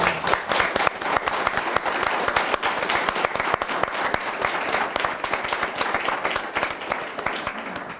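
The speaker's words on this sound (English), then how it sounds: "I think we should all give them a round of applause." An audience at a community business event applauds award winners with a steady, dense wash of clapping that stays loud and sustained throughout.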